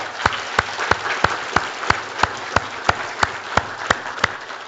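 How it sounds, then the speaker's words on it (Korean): A church congregation claps together in steady unison beats, about a dozen sharp even claps roughly every third of a second over a soft crowd bed, with no talking. "주님께 영광의 박수 한번 드리겠습니다"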